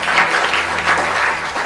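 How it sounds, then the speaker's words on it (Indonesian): A church congregation applauds, a steady wash of many hands clapping together for a short, sustained burst. "Kita beri tepuk tangan buat Tuhan"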